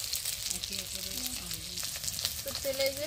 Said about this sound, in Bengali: আর এক পাশে মাছ ভাজাবো